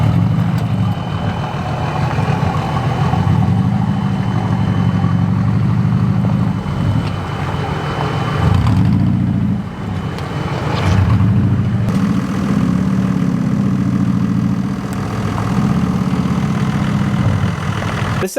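A VW Syncro van's engine drones steadily and close up as it crawls over bumpy off-road terrain, the low rumble swelling and dipping with brief clatters from the bumps and no talking.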